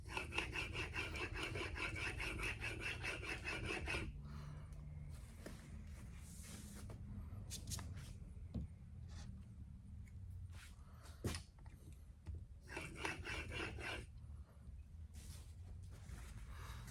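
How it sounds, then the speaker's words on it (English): Rasping strokes of a woodworking tool edge honed on a black Arkansas sharpening stone, a steady scraping run at the start and another near the end, with quieter handling noises in between. "I'll go to the black arc and I'll do like 3 strokes."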